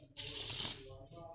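A deck of playing cards riffled in a quick card-trick shuffle, one short burst of crisp fluttering close to the mic, trailing off into faint riffling.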